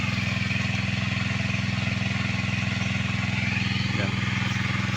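A Kenbo 6.5 horsepower engine drives a water pump beside a river, running at a steady, loud, even drone throughout with no pauses.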